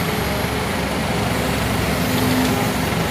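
A Toyota dump truck engine rumbles steadily with a loud, low exhaust drone and a broad roar that holds constant throughout.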